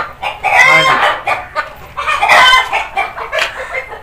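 Aseel hen clucking loudly and close up, a run of several bursts of throaty, rhythmic clucks with short pauses between them.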